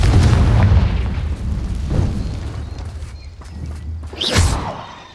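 A Confringo fire spell in Hogwarts Legacy: several booming explosive bursts spaced a second or so apart, the loudest and sharpest one near the end, with rumbling combat noise between.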